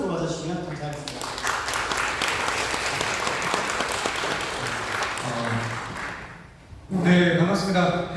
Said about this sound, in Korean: 큰 박수로 맞아주시면 감사하겠습니다